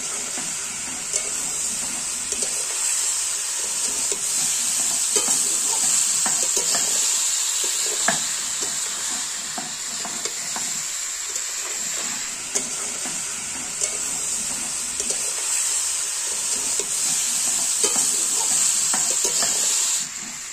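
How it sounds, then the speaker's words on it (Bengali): Elephant apple (chalta) pickle is stirred slowly in a small, overfilled wok. A loud, continuous sizzle runs throughout, broken by regular scraping and stirring strokes of the spatula. "অল্প অল্প করে দিয়ে আস্তে আস্তে নেড়ে নিতে হবে"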